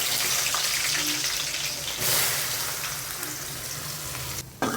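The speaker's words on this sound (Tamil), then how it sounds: "வெந்தயம் கொஞ்சம் பொரிஞ்சதும் நம்ம வந்து இப்போ வெங்காயம் போட்டுப்போம்." Onions drop into fenugreek seeds frying in hot oil for a Tamil garlic kuzhambu, giving a sharp surge of sizzling that settles into a steady close hiss with no talk.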